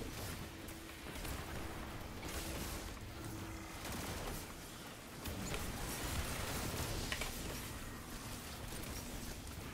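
Steady gunfire from a weapon in Destiny 2, with dense, continuous shots running throughout at a fairly even loudness and no pauses.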